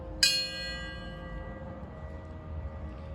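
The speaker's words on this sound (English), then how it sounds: "We toll the bell in remembrance of United Airlines Flight 175 and those who lost their lives" A single memorial bell strikes once at a 9/11 remembrance ceremony in Bannock County, the loud ringing attack fading into a long, sustained hum over a low background rumble, with no other strikes following.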